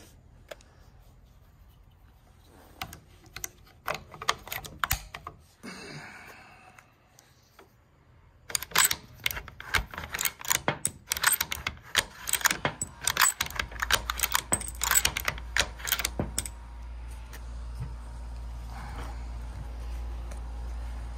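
Rounds of .223 ammunition are pressed one at a time into a four-round HS Precision magazine for a Remington 700 PSS rifle, giving a run of close, sharp metallic clicks and snaps, with quieter handling before.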